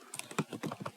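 Quick keystrokes clatter on a computer keyboard while a formula is entered in an Excel worksheet, about a dozen close, quiet taps in an uneven burst.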